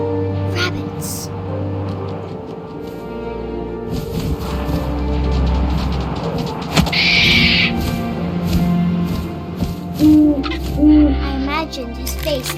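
Owl hooting in the video game What Remains of Edith Finch, a short soft hoot over a steady bed of wind, music and a narrating voice.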